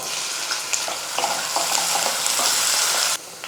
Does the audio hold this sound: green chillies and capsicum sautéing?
yes